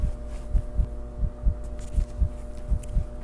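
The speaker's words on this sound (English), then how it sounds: "I love the added heartbeat." Heartbeat sound effect layered into a Backrooms horror video, a steady low double-thump pulse repeating about every half second over a faint background hum, with no one speaking.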